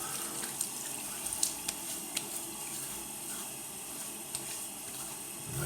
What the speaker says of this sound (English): let's wet the face real quick